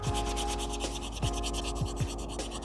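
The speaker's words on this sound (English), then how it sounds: "now I'm gonna go ahead and use this sanding block. This is a 320 grit, so it's pretty rough." A 320-grit sanding block rubs back and forth over a painted shoe, close and rhythmic with quick repeated strokes, gritty and fairly quiet, no talking.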